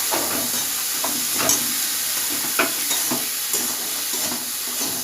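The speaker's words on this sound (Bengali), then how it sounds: "ছোলাটা দিয়ে দেবো দিয়ে ভালোভাবে মশলার সঙ্গে কষিয়ে নেব" Boiled chickpeas sautéed with spices in a pan make a steady close sizzle, broken by periodic spatula scrapes and stirring knocks.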